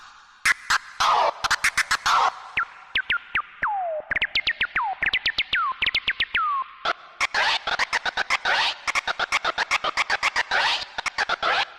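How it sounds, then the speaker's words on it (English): Rapid turntable scratches by a DJ with a reverb effect, in quick rhythmic bursts, each stroke whooshing up and down, with a reverb tail that lingers between the cuts. "I had reverb on my scratching."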